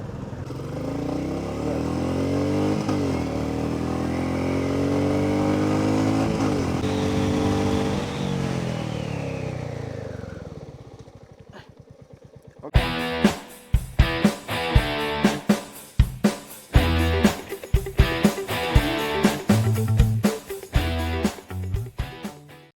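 Royal Enfield Meteor 350 cruiser motorcycle (2023) engine: a steady, loud single-cylinder rumble rising and falling through revs for about twelve seconds, then cutting out into a burst of sharp, irregular rhythmic thumps.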